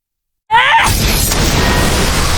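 A sudden loud blast in an anime after a short silence, with a rising whoosh before it, then a sustained roaring rumble and crackle that fills the rest.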